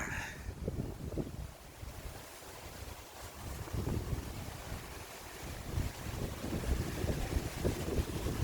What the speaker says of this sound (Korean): 바람 소리도 시원하지 바람 소리 아, 완전 바람 소리 바람 소리 물 소리